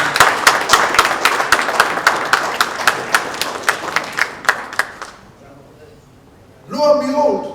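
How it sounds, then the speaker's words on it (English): Audience applause at a conferment ceremony for the Ooni of Ife in Lagos, with rhythmic hand claps close and loud that thin out and fade, followed by a voice speaking. "A beautiful round of applause for him."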